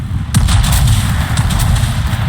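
Warship main guns fire in the naval battle game World of Warships, a loud run of booming salvos and rapid gunfire blasts that fill the whole stretch with no voices.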